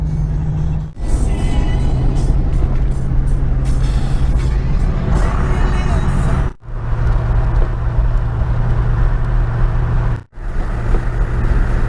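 A car drives west on a highway near Hanksville, Utah, its steady road and engine rumble loud and close, broken by two brief dips in level, with no talk over it.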